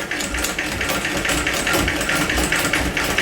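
A vintage Singer 206K sewing machine zigzag stitching through denim, running steadily and loud with a fast, even mechanical chatter of needle strokes throughout, no voices.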